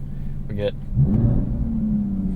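A 2025 Aston Martin Vanquish in Sport Plus mode gives a steady, low exhaust rumble that swells slightly partway through, heard close under a brief spoken phrase.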